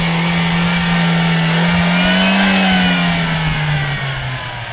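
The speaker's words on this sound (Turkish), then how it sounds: "Bakalım motor sesleri nasılmış." The engine of a VW Passat 1.4 TSI or Opel Insignia 1.4 Turbo, hood open, revs up loudly and close, its note climbing, holding, then easing back down over a few seconds.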